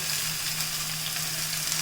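Masala paste of onion, shallot, ginger, tomato and garam masala sizzles steadily in a pan for a gutti dondakaya curry, a close, continuous hiss with no talk.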